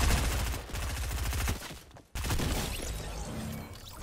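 Rapid bursts of video game gunfire crackle in dense volleys, pausing briefly near the middle before the shooting resumes just as heavily.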